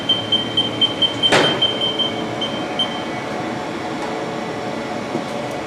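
A Haas VF-2SS vertical machining center runs its spindle at 4000 RPM, a quiet, steady mechanical hum with a thin high whine that pulses briefly near the start, alongside a single sharp knock, with no one talking.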